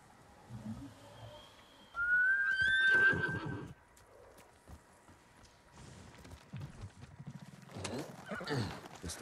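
A horse named Nobu in the video game Ghost of Tsushima gives a loud, shrill whinny with snorts, then quieter clopping hoofbeats and rustling follow, ending in a louder burst of movement.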